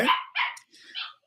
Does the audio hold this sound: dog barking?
yes